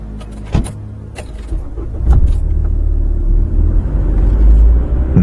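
Getting into a car: a few sharp door and handling clicks, then a closing thud and a low engine rumble that swells and holds, loud and close, with no talk.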